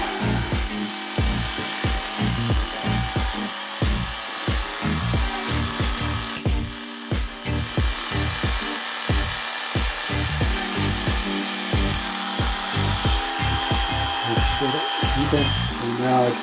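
Electric hair clippers run steadily throughout a home boys' haircut, a close, continuous buzz with repeated rhythmic scraping strokes over it, and a voice speaks briefly.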